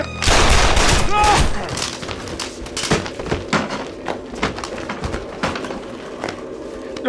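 A volley of gunshots at the start of a tense border confrontation, loud sharp cracks in a fast burst followed by several scattered, fainter shots and thuds.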